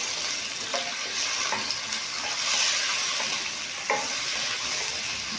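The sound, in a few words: cauliflower frying in oil in a kadai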